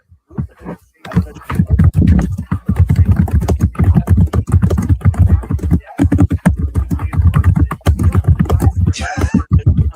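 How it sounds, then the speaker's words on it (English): Rapid, dense keyboard clatter goes on throughout, loud and close, with a faint voice briefly audible near the end. "I just hear you hit the keyboard."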